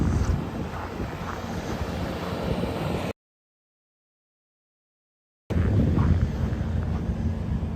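High wind buffets the microphone during a cold winter walk outdoors in Regina on Christmas Eve, a loud continuous roar cut off by a few seconds of complete silence before it resumes.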